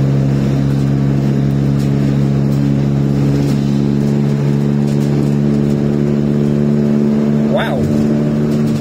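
An Iveco Daily 35-8 van fitted with a custom exhaust drones loudly at steady revs nearby, a deep continuous engine hum with a brief rising rev near the end, while people talk over it.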